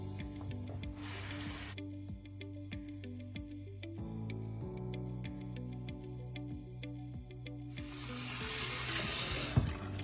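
Running water from a bathroom sink tap splashes over a hair system skin base unit as it is washed, a steady close hiss with bursts of stronger spray at the start and end, over a faint tonal hum.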